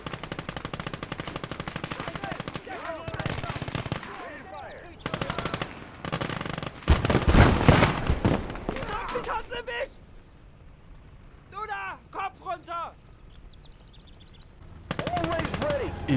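Bursts of machine gun fire rattle through a Call to Arms: Gates of Hell battle, several sustained volleys with short pauses between them, loud and close, with a voice speaking over parts of it.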